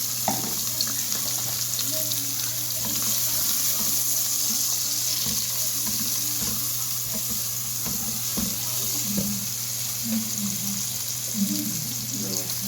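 Thinly sliced onion fries in a pan on the stove, a steady hiss running beneath close kitchen clatter and faint running water, with a constant low electrical hum throughout.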